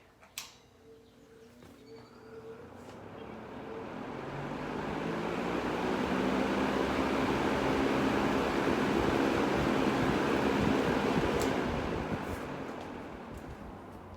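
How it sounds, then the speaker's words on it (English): A freshly oiled, cold vintage Galaxy box fan spins steadily with a broad whooshing hum, building up and then slowly fading as it winds down, with a couple of faint clicks and no talking. "here's a control spin down, just oiled, so we can keep an eye"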